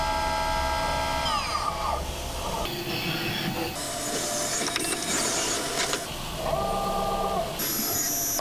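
A CNC end mill cuts a dovetail into a GoPro case, with shifting whining tones rising and falling over a constant machine hiss, close by with no voices.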